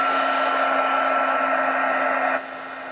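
Hair dryer blowing on a watercolor painting, a loud, steady whirring hiss with a constant tone that drops to a lower setting just before the end.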